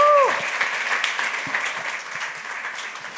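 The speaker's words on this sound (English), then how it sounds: "I would ask you to help me welcome Dr. Spencer Harris to the stage to introduce Optikal" At a startup demo day, an audience claps steadily for a speaker walking on stage. The clapping is a dense, even patter filling the room, briefly overlapped at the start by a fading squeal of microphone feedback.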